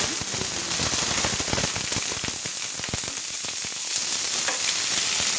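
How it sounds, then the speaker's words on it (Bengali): Chopped medium-size onion hits hot oil in a pan, giving a loud, continuous sizzle dotted with sharp crackles and pops, with light stirring noises throughout. "আলু দেওয়ার আগে আমি দিয়ে দিচ্ছি কুচিয়ে রাখা পেঁয়াজ।"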